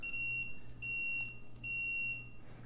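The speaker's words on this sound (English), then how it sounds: "make a continuity sound like this" A multimeter sounds its continuity beep as the probes touch the leads of a microwave thermostat, three sustained high tones with short gaps between them, clear and alone.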